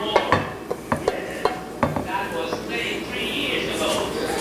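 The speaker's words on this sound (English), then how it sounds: "This pan weighs a ton." A heavy cooking pan holding chicken stew is handled and stirred, giving a string of sharp metallic clanks and scrapes early on, then a softer steady rustle with light bubbling, close and moderately loud.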